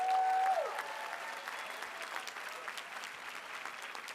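A large audience at the Pitzer College commencement ceremony for the Class of 2025 breaks into sustained applause, a dense, steady clapping that fades slightly after a brief tone at the start.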